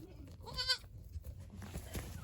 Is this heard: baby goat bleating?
yes